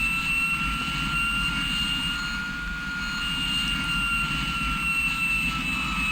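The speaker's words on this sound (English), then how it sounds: "Definitely hear the engines running nice and loud." Hawker Sea Hawk jet engines run steadily in a flight simulator game, a loud continuous roar with a constant high whine, heard alone.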